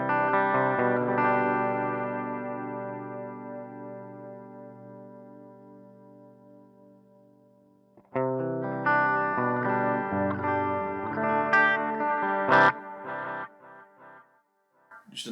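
Guitar runs through the delay setting of the Line 6 Metallurgy Thrash plugin, a ringing chord decaying slowly with echoes before a busier burst of repeated, effected notes, alone with no talk.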